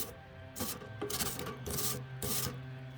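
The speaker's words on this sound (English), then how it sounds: "let's scrape the last of it off here." A metal tool scrapes residue from the inside of a bee smoker in four rough, rasping strokes, each close and gritty with short pauses between.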